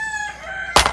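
A large rooster crows close by, a loud, clear, tonal call that ends in a brief, sharp burst.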